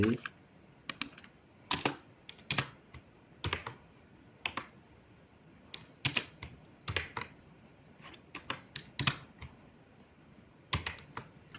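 Keys clatter on a computer keyboard in irregular bursts of clicks and quick key presses, close and fairly faint, with no speech over them.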